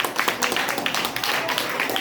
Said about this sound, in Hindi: तो लड़की अपने लिए ताली बजाएगी।